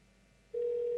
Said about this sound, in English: That is a real phone number that I'm calling now